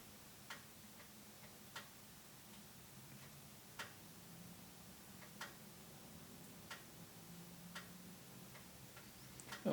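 A wrench ratchets in slow, regular ticks while tightening Audi A6 timing belt parts, one faint click every second or so over a quiet hum, with a louder clunk at the end.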